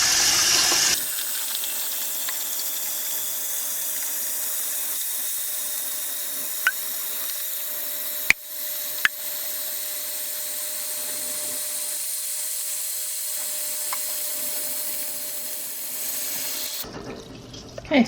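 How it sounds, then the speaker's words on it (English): Tap water runs steadily into a pan holding jars for canning dandelion jelly, a continuous close rushing hiss lasting about sixteen seconds, broken by a couple of faint clinks before it stops. "And now we'll just start filling the pan."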